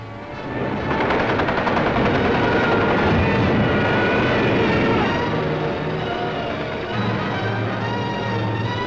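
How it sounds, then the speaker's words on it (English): Wartime aircraft din of German bombers over London in WWII film footage: a loud, sustained roar with rattling machine-gun-like bursts, steady through most of the stretch and dipping briefly near the end. "Some of the German bombers broke through London's defenses"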